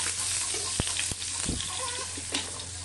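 Garlic sautéing in a pan for lunch, a steady broadband sizzle filling the clip with a few soft clinks and stirring knocks, close and even, with no talk.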